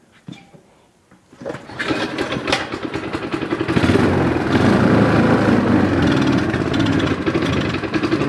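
A Yamaha YZ250 dirt bike with a dirty carburetor sputters to life after a few clanks, then runs as a loud, rough two-stroke engine close by.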